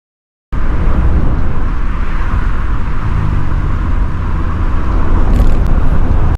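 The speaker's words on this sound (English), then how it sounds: "A line of small cars driving together." A team of small Kei-class Copen sports cars drives past in formation on a highland road, giving a loud, continuous close-up engine and road roar with no voices.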